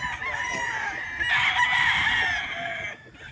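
A rooster crows on a farm in the morning, one drawn-out call sitting over a steady background of other fowl clucking and farmyard noise.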